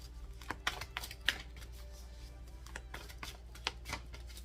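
Tarot cards being shuffled for a card reading, a soft run of quick papery riffles and taps, close and fairly quiet, with no talking.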